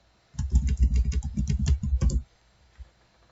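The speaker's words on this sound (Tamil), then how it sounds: "இன்கேஸ் அது இல்லை அப்படின்னா நம்ம இங்க மேனுவலா டைப் பண்ணிக்கலாம்." Rapid run of key clicks from typing on a computer keyboard while entering data into an Excel spreadsheet, close and fairly loud for about two seconds, then quiet with one stray click.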